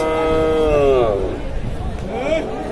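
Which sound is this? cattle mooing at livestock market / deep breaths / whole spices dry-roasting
cattle mooing at livestock market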